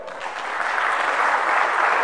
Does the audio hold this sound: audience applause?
yes